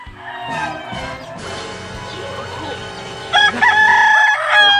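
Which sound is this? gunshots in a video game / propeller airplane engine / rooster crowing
rooster crowing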